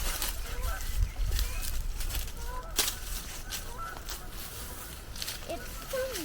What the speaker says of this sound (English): We are carrying on and we can hear some squawking.